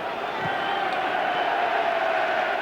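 Football crowd at a 1993/94 Southampton versus Arsenal match barracking a player, a steady, dense roar of many voices filling the whole stretch with a faint shout rising briefly near the start.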